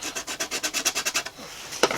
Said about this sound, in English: I'll just scratch that on.